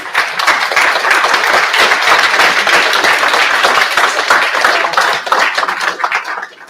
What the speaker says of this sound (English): Big round of applause for our panelists, please